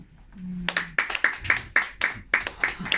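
Sparse clapping from a small comedy club audience, a handful of distinct close claps in an uneven rhythm following a brief low voice at the start.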